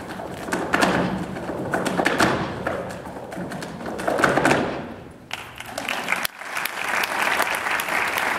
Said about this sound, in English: Now you have to tap dance to get this thing going.